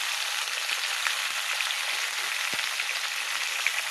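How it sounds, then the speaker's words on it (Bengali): Cauliflower fries in a pan with a water-mixed spice paste as it is stirred, a steady soft sizzle throughout with a few faint taps from a spoon, no voices. "ফুলকপিটা দেওয়ার সাথে সাথে এই যে মশলাটা একটু জল দিয়ে মেখে নিয়েছি, মশলাটাও দিয়ে দেবো।"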